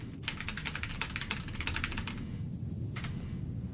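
Rapid clacking keystrokes on a second computer keyboard at a desk, close and steady, with a short pause before a final burst of taps.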